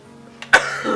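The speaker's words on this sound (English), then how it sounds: "Cough." A single sharp cough bursts out mid-clip after a faint breath, followed by low, quiet noise.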